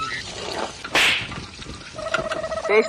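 Water is poured from a small metal pot during night-time chicken frying, a short bright splashing burst followed by sizzling and clinking kitchen sounds nearby.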